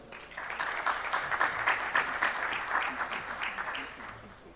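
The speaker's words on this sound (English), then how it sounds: "So please, round of applause again for Karen Svensson." Audience at a small business summit breaks into applause: a dense patter of many hands rising quickly, holding steady for several seconds, then tapering off toward the end, with no talk over it.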